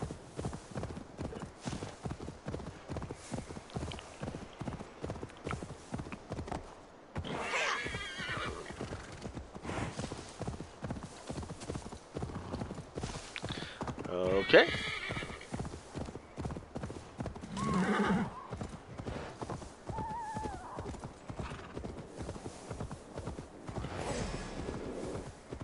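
Steady clip-clop of hooves at a gallop with repeated horse whinnies and neighs in the video game Assassin's Creed Valhalla, fairly close, with occasional voice sounds mixed in.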